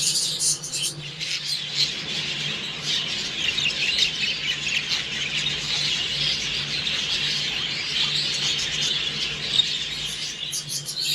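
An aviary of exhibition budgerigars keeps up a steady chorus of squawks and chirps, dense and continuous throughout, with a low hum underneath.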